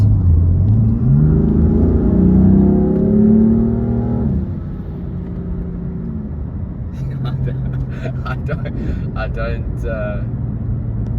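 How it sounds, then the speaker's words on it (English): BMW M4 accelerating in standard M mode, the engine note climbing steadily in pitch and loudness, then easing off as the revs drop to a lower drone, with someone talking over it near the end. "this is standard M mode, and we're just gonna accelerate a little bit."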